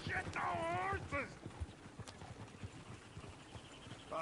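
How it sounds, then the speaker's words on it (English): Horses in the video game Red Dead Redemption, clattering hooves in rapid irregular clip-clop with whinnies, starting under a shouting voice and continuing alone. "shit, the horses!"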